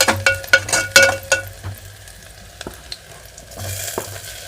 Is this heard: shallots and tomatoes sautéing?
yes